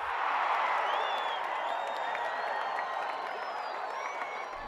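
A football crowd cheers and applauds after a goal, a broad, sustained roar of clapping and whooping from a large stadium audience that holds steady throughout.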